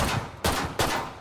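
Gunfire in the video game Killing Floor 2: three sharp, close shots in quick succession, each a loud crack with a brief decaying tail.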